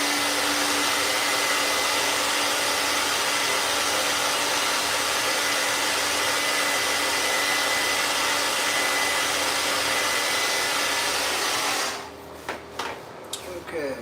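A dryer blows steadily on primer over a windscreen chip repair, a constant close whirring rush for about twelve seconds that then cuts off into a few faint handling noises.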